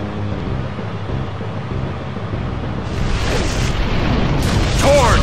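A fiery Flare Blitz attack in the Pokémon Battle Revolution video game: a loud, sustained roaring rush of flame that swells and intensifies, ending in a bright whooshing burst.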